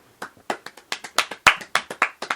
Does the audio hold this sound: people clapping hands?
yes